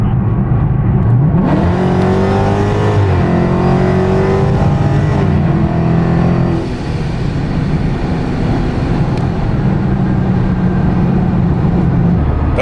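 A Procharger-supercharged car accelerates hard, its engine note rising steadily in pitch through a long, loud pull, easing briefly mid-run before climbing again and holding a strong roar to the end.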